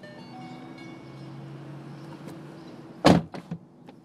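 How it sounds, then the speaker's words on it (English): A low electric motor hum as a Ford Mustang's window automatically lowers and rises runs steadily, then a sharp thud of the door shutting and a couple of quick knocks follow near the end. "the window is going to automatically lower a little bit so that when you shut it"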